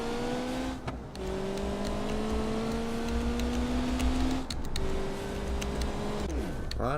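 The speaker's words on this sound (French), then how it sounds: "Accélère un petit peu, supercar." A supercar revs and accelerates in the BeamNG.drive driving game, its engine tone climbing steadily through the gears with brief shift dips, loud and continuous for several seconds before a sharp sweep near the end.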